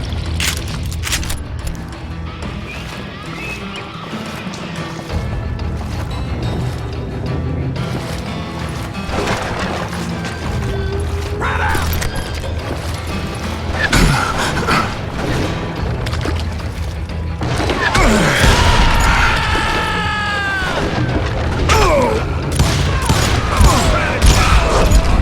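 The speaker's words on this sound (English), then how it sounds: "a fusillade of bullets come raining down from on high" A gunfire volley in the Western shooter Call of Juarez: Gunslinger: a long, dense stretch of rapid shots and booms that swells louder near the end, with a voice speaking over part of it.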